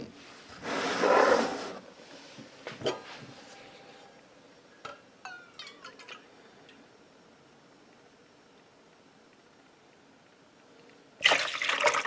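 Milk for a hand-made white bread dough pours briefly into a bowl, a short liquid gush followed by quiet clinks and taps, then another brief pouring splash near the end.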